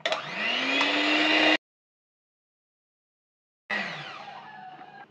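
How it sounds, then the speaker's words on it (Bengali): An electric hand mixer beats cake batter with milk, a loud, steady whirring motor run that stops abruptly, leaves about two seconds of silence, then starts again and gradually slows, without speech. "এখন এইগুলো আমি আর একটু বিট করে নেব।"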